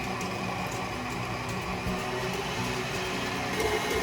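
An electric mixer runs on high, whipping cream with vanilla toward stiff peaks, giving a loud, continuous, dense whirring drone with no pauses or talk.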